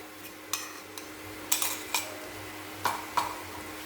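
A spoon stirs onion and tomato paste in a pan, producing sparse, quiet metallic clinks and scrapes at irregular intervals over a soft background.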